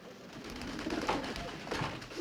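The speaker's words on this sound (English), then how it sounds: "There sure were a lot of pigeons in there" Pigeons coo in a building full of birds, soft throaty calls repeating at moderate distance over a steady background hum.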